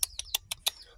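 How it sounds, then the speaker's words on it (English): Pet parrots chirping at close range, a rapid series of five sharp, bright chirps in about a second, loud and unaccompanied by talk. "They have the parrots and they're here."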